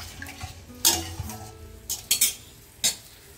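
A spoon scrapes and clinks in a pan as fried potatoes and eggplant are stirred together, with a few sharp, close metallic strikes over a faint background.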